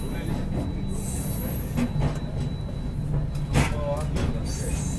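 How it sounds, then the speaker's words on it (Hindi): A Tejas Express train moving along the rails on the Madurai to Chennai route, heard from inside with a steady rumble, rattling and brief wheel squeals, while a voice talks over it. "तो ये देखो ट्रेन अभी चल गई है लेकिन डोर्स अभी भी ओपन है"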